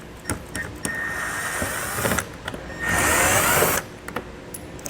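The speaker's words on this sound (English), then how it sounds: "We'll use our T15 Torx to remove these." Power driver backing out T15 Torx fasteners on a 2021 Buick Encore, short bursts of whirring, the longest about a second, separated by clicks and handling noise.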